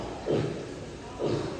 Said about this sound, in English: That is a distress call from a juvenile.